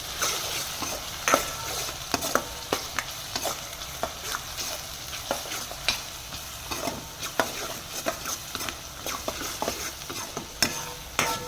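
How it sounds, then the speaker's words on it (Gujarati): A spoon stirring food seasoned with salt and turmeric in a pan, irregular close scraping taps over a soft continuous sizzle of frying, with no talking. "આપણે સરખી રીતે મિક્સ કરી દઈશું."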